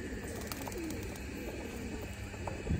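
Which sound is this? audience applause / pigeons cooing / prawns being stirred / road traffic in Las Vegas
pigeons cooing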